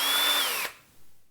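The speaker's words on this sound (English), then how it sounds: "we're going to drill some holes" Power drill whining at high speed as it bores a hole in a DIY dolly platform, close and brief, then the motor winds down and stops.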